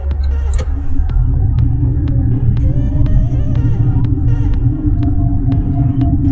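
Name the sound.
car coasting around a corner during road test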